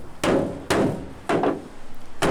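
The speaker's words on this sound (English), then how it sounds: "Using the bumping iron to bring out the lip." Bumping iron striking the dented sheet-metal bed of a Ford pickup, four sharp metallic blows at uneven intervals with short ringing decay, close and loud, no talk.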